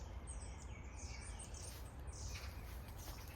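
Faint bird calls beside a hiking trail in South Korea: small, scattered chirps and tweets rise over a soft outdoor hiss, with no voices.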